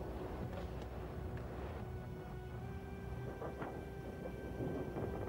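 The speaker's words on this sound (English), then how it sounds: "We listened to the pounding shells, the shooting, the thundering noise overhead." Artillery shells explode far off in wartime Sarajevo as a low, continuous rumbling roar, dull and heavy, with faint crackling above it.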